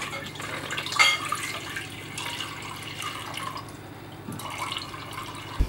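Water, 500 grams of it, is poured into a pot to start syrup for melomakarona, a faint splashing trickle with a few drips in a quiet kitchen.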